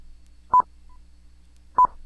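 Two short Morse code dots, clean mid-pitched electronic beeps about a second apart, each very brief and clear against near silence.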